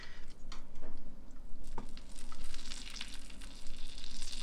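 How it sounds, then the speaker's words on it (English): Cauliflower sizzles and fries in a hot pan for a fennel salad, a steady close crackle with scattered sharper pops throughout, fairly quiet and alone with no talking. "here's our cauliflower. Super sizzling."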